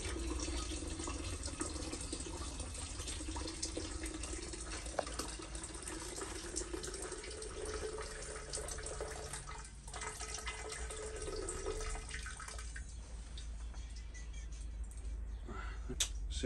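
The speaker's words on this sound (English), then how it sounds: "So I'm washing this out now with hot water." Hot water runs steadily from a tap as a container is rinsed out after a lye and sugar process, a continuous close hiss with faint splashes shifting partway through.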